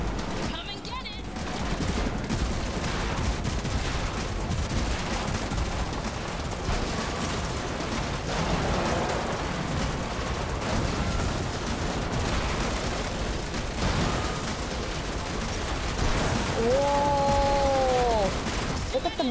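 Sustained bursts of gunfire fill a Matrix Awakens Unreal Engine 5 video game action scene, rapid overlapping shots rattling loudly throughout, with a short tonal sweep near the end.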